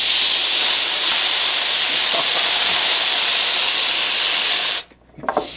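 Fast air blown to spray water in a Bernoulli demonstration, a loud continuous hiss that cuts off abruptly near the end, followed by a brief sputter.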